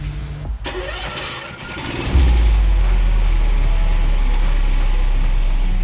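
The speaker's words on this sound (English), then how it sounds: "The Baumr-AG 380 RX side discharge with mulcher is a 38-inch ride-on mower built for Aussie properties" A Baumr-AG 380RX ride-on mower with a 14 horsepower Ducar engine cranks and starts, its starter whirring briefly before the engine catches and settles into a loud, steady, close-up low idle rumble.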